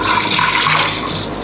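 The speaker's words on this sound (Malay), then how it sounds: "Masukkan air." Water pours steadily into a cooking pot for a sweet rice pudding that already holds thick coconut milk, a close, loud continuous splashing rush with no talking.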